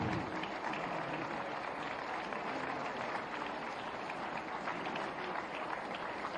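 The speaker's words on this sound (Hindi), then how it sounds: "लगातार तालियों के साथ स्वागत, सत्कार, अभिनंदन" A crowd at a National Youth Day event in Lucknow gives sustained welcoming applause, an even, continuous roar of clapping heard at a distance and fairly faint, with a voice over it.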